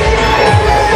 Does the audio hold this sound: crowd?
yes